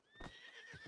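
A horse in the video game Red Dead Redemption gives a short, faint whinny, rising then falling in pitch, accompanied by a few soft hoof thuds.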